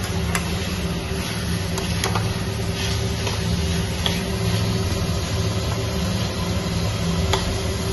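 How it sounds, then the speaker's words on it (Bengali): Cauliflower being stirred and fried with spice masala in a pan, a steady continuous sizzle with occasional faint scrapes of the spoon, fairly close and alone without talk. "ভালো করে নেড়ে চেড়ে ফুলকপি মশলার সাথে কষিয়ে নেব।"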